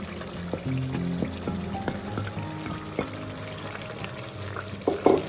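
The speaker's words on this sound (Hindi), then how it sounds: "अब ये जो मैंने मसाले आपको दिखाए थे वो सारे मैं इसमें डाल दूँगी।" Spices being added to onion and tomato frying in a pan, a steady soft sizzle with light stirring and a few clinks, under tonal background music, with a brighter burst of sizzling near the end.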